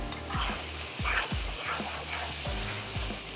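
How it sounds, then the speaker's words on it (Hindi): Prawn masala frying in a karahi gives a close, continuous sizzle with rhythmic scraping strokes of a spoon about every half second. "मसाला अच्छे से भून रहा है।"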